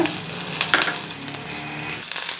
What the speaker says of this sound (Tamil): அதில் வந்து நான் கொஞ்சம் எண்ணெய் விட்டுண்டு அதுக்கப்புறம் கடுகு தாளிச்சிருக்கேன்